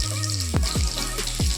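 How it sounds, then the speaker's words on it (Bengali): Green chili and panch phoron tempering sputter in hot oil for a Bengali labra, giving a continuous sizzle broken by several sharp crackling bursts, close and fairly loud. "এবার আমি একটা কাঁচা লঙ্কা ফোড়ন দিচ্ছি আর 5 ফোড়ন দিয়ে দিলাম"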